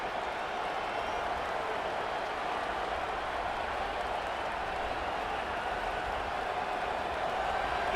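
College football stadium crowd at a Kentucky Wildcats versus Texas Longhorns game, a dense, steady roar of cheering and noise that fills the whole stretch without letting up, heard from within the stands.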